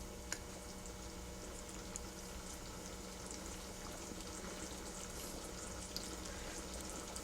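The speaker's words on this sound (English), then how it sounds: "So let it simmer for another about maybe 15 minutes or so." Black-eyed pea and sausage chili simmering in a pot, a steady close bubbling hiss with small pops, continuous and even throughout.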